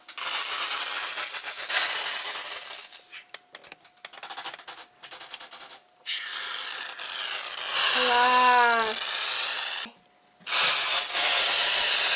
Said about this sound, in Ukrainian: А тепер розпилю сніжочок.